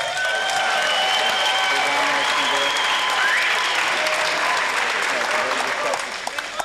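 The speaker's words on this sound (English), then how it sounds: "Ladies and gentlemen, how about a nice round of applause for both fighters, please?" At a professional Muay Thai fight event, the crowd gives both fighters a loud, sustained round of applause after the bout. The dense clapping holds steady and fades slightly at the very end.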